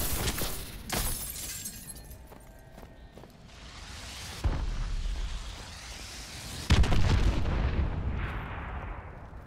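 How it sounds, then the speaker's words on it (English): Enemy missile strikes in Call of Duty: Advanced Warfare, several loud, sharp explosive blasts with crackling debris tails that fade between hits, no voices. "Enemy missile strikes."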